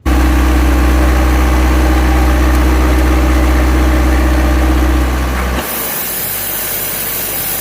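Car engine idling with a leaking PCV hose, a loud steady idle with a deep rumble close by that shifts abruptly near the end to a lighter, hissier running tone.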